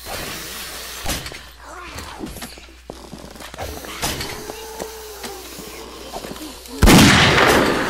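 Gunfire in the zombie survival game 7 Days to Die: several sharp, separate shots scattered through the stretch, with a louder blast near the end, over a low game ambience.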